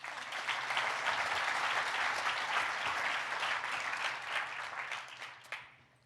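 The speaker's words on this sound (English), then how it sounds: "Another round of applause for our speakers." Sustained audience applause for the speakers at the Paragon 2025 corporate conference, a broad steady clapping across a large crowd that thins and fades out in the final second.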